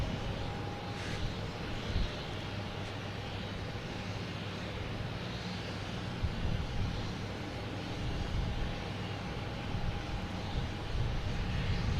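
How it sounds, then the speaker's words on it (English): A United Airlines airliner arriving at Boston Logan from Houston gives a continuous low engine rumble with a faint steady whine, moderately distant and unchanging, with no talking. "There we have United Airlines coming in from Houston."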